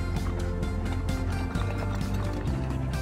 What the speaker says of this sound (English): Sounds like it's full of water.